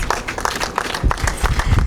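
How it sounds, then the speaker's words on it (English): Applause and clapping from an outdoor crowd at a Juneteenth flag raising in Roselle on a hot day, a steady patter of many hands through the whole stretch. "Give yourselves a round of applause."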